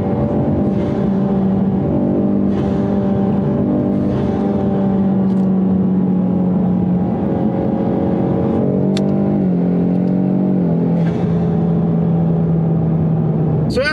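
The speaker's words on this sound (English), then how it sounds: "I'm just going to drive like this for about 20 minutes." A car treated with Lucas fuel treatment drives steadily on the road, its engine droning loud and continuous from inside with small shifts in pitch as speed changes.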